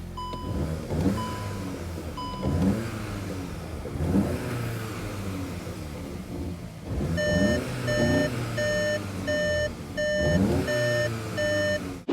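A VW Golf GTI Edition 50 engine, muffled by its particulate filter and catalytic converters, revs in repeated swells through a steady rumble. Regular electronic beeps chime over it nearby, and no one speaks.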